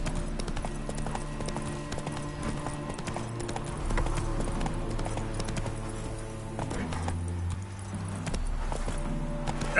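Roach, a horse from The Witcher 3, gallops with steady, rapid clip-clop hoofbeats that persist throughout, loud and close, over a continuous low rumble of game ambience and music.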